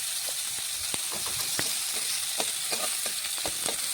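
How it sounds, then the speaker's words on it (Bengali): Slices of lotus root fry in oil in a pan over low heat, with a steady close sizzle broken by scattered crackles and pops. "আর বেশ কিছুক্ষণ সময় নিয়ে কিন্তু হালকা আঁচে এক পাশ লাল লাল ভেজে নেব"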